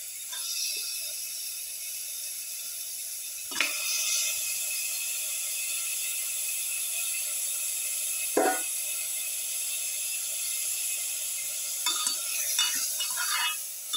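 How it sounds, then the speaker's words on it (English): Mutton pieces sizzle steadily in a hot pan for a lamb carrot stew, a constant bright hiss broken by a few scraping stirs of a utensil against the pan, with no voices. "Put in the mutton piece."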